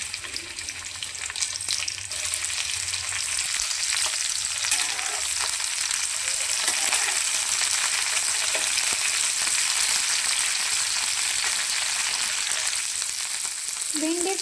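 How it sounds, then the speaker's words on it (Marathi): Okra (bhindi) frying in two spoons of hot oil in a pan, a loud, dense sizzle holding steady throughout with scattered crackles and light stirring. "आपण भेंडी फ्राय करून घेऊया।"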